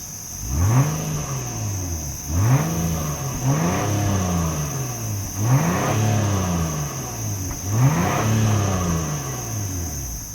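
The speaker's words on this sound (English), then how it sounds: "As always, here is that exhaust clip." A 2026 Acura MDX Type S with active-valve exhaust blips its engine five times, each rev rising and falling in a loud, close, rhythmic pattern, with a steady high whine throughout.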